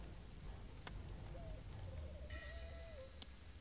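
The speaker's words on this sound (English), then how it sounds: "Oh, it's raining too." Steady rain in the survival game Survivalist: Invisible Strain, a constant soft hiss of falling drops filling the background, with a few faint tonal game sounds briefly on top.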